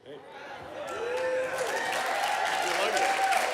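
Studio audience applauding as a contestant named Trent spins a prize wheel on a game show, a steady wash of clapping building and holding throughout, with a voice and tonal sounds over it.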